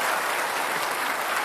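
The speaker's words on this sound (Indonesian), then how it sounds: "Kita kasih tepuk tangan untuk keduanya." Steady, dense applause from a debate audience for two Jakarta governor candidates, broad and continuous throughout with no voices standing out.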